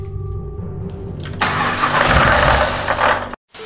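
A Camaro engine with a Whipple supercharger kit cranks and catches, then runs with a rough, loud rumble before cutting off abruptly near the end.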